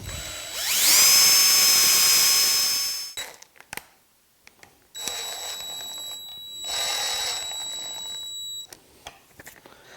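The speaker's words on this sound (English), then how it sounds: "And they all get a pilot drill." Power drill boring pilot holes in wood for tabletop fasteners on an entry table, two separate high whining bursts of several seconds each, with quiet handling clatter in between and after.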